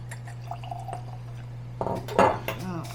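Weller Special Reserve whiskey poured in a small splash into a glass, a brief liquid trickle with a light glassy clink standing out over a steady low electrical hum.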